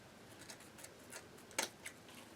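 Scissors snip through the ribbon of a store-bought bow at an angle: a few soft, scattered cutting clicks and one sharper, louder snip near the end, close up and quiet, with no talking.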